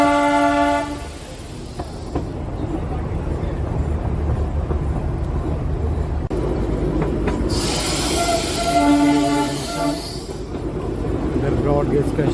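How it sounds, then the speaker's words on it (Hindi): A Darjeeling Himalayan Railway toy train runs just after leaving the junction, with a loud continuous rumble and rattle of wheels on track, brief horn toots at the start and again near the end, and talking over it. "जंक्शन से चल चुकी है हमारी ट्रेन।"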